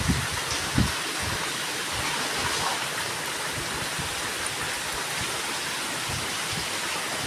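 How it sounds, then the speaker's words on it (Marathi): Heavy rain pours steadily on a village garden lined with flowering plants, a dense, constant roar of water with wind and a few heavier drops hitting near the start. "किती जोरदार पाऊस पडतोय बघा"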